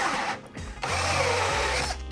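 A power drill boring a round hole whines at high speed, its motor pitch shifting as it bites into material, with a brief dip before revving steadily again.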